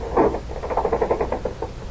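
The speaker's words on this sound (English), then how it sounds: "Have you ever wondered what makes that shade unwind?" A quick, fluttering rattle of a window shade unwinding, a run of light ticking patter that slows and fades within two seconds.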